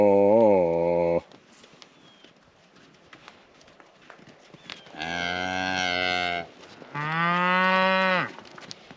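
Three loud, drawn-out cow moos with quiet pauses between them, the last rising and falling in pitch.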